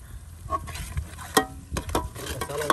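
Masala for chicken biryani frying in a pot over a wood fire in a village, with sizzling and scraping stirs, a few sharp clanks of the spoon against the pot, close and without talk.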